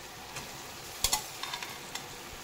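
Octopus adobo broth stirred in a pot, a couple of sharp scraping knocks followed by lighter clinks over a soft background sizzle, close and brief with no voices.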